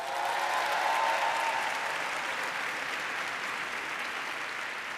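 An audience at a university graduation ceremony applauds the audiovisual communication graduates with a broad, continuous roar of many hands clapping, steady and full throughout, easing slightly in the final seconds.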